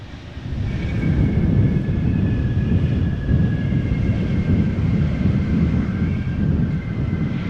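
Airliner landing at Amsterdam Schiphol Airport without reverse thrust, a steady broad jet rumble and roar heard from outside at moderate distance, with a faint thin whine above it.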